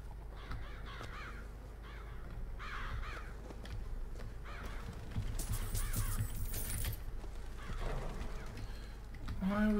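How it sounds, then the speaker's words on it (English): Crows caw repeatedly in the video game BioShock Infinite, harsh rasping calls in irregular bursts over a low ambient game drone, some louder and closer, with faint rustling and jangling in between. "those crows are definitely a bit weird"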